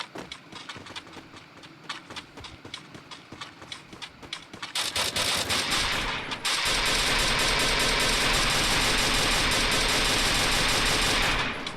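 Rapid gunfire in a battle royale video game, bursts of sharp repeated shots at first, then a loud continuous dense roar of sustained fire and engine-like noise filling the rest.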